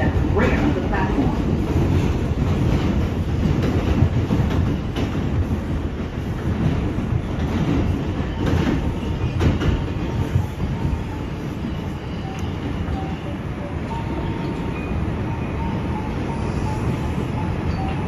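An R142 subway train runs on the Lexington Avenue Local line, rumbling loud and close with steady wheel clatter and occasional squeals throughout.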